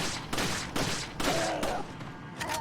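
Rapid gunfire aimed at Dr. Salvador in the Resident Evil 4 video game, a string of loud close shots in quick succession across the whole stretch, with a faint whine in the background.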